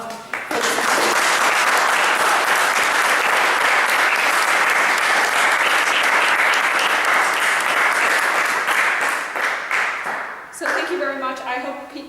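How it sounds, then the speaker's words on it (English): Loud, sustained audience applause fills a room after a talk at a product development event, steady clapping for about ten seconds before tapering off as a voice begins speaking. "can we have another massive round of applause?"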